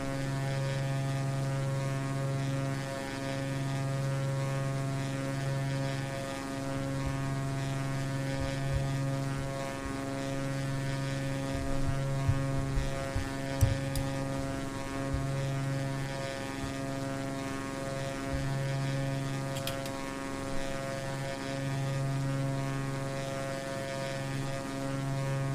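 A propeller aircraft in a flight simulator game holds a steady droning engine hum as it rolls for takeoff, the tone constant with a few faint rattles and bumps midway.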